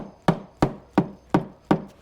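Five sharp, evenly spaced taps on the valve cover of a 2005-2008 Honda Pilot engine during a gasket replacement, each a crisp knock with a brief ring, close and alone.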